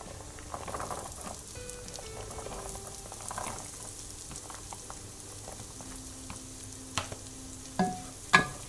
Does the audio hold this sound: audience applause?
no